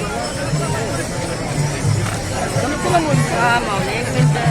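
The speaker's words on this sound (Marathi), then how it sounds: "सगळ्या ठिकाणी खूप अशी गर्दी असते" Pilgrims on the Wari procession walking in a packed crowd, a continuous close babble of many voices with shuffling movement, nearby people talking throughout.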